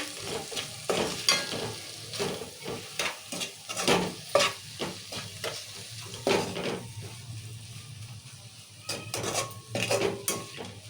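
A spoon stirs and scrapes through mutton curry with salt, turmeric and chili in a pot, with clinks, soft sizzling and wet mixing at close range, no talking.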